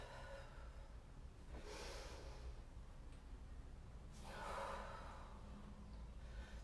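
A person exercising takes two slow, audible breaths, a soft rushing inhale and a longer exhale, faint and close, with quiet background between them.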